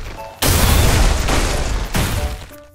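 A loud, roaring explosive blast from a Granite Blast attack in a Jujutsu Kaisen Minecraft mod battle. It erupts suddenly, then rumbles on with a second surge about a second and a half later before cutting off.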